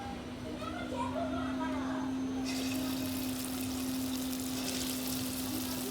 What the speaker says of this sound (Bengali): এবার আমি এগুলোকে বড়ার আকারে ভেজে নেবো